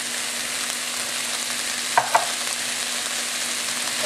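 Mushrooms are stirred into mirepoix sweating in a pan, giving a steady, close hiss of frying with a couple of brief utensil clicks midway.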